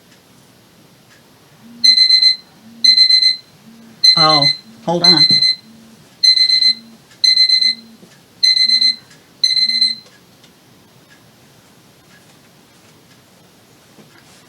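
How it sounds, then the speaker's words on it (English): A phone alarm rings indoors as seven evenly spaced bursts of bright, high electronic beeping, loud and close. A person speaks briefly over the middle beeps, and quiet follows once the alarm stops. "That was the alarm on my phone."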